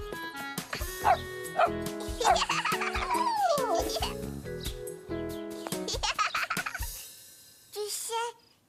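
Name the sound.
small dog barking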